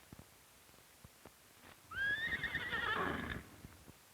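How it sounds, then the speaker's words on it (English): A horse on a 1940s dairy farm, one of a pair trained to haul a farm wagon through lanes and gates, gives a single whinny of about a second and a half against a quiet background. "Dobbin and Black Beauty are trained to haul the wagon through the network of farm lanes and gates."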